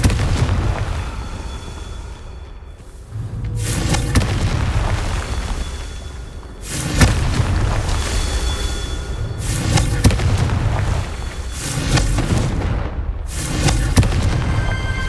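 Confringo fire-blast spells go off during a Merlin trial in a Hogwarts video game, several loud booming bursts every few seconds over a dense, continuous game soundscape.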